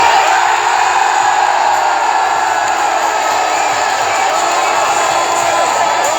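A crowd's loud, sustained applause mixed with cheering and whoops, dense and continuous throughout without pause.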